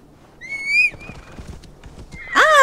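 A horse in Assassin's Creed Valhalla gives a high whinny, then hooves clop in a soft, uneven patter before a second, louder neigh closes it out. The sounds are close and clear, with no talk over them.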